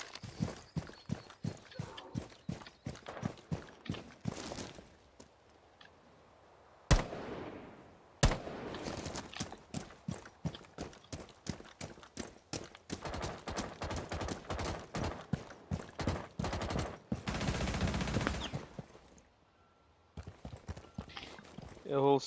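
Rapid bursts of gunfire in Tom Clancy's Rainbow Six Siege crack in repeated volleys, with pauses and a few sharper single shots, moderately loud throughout.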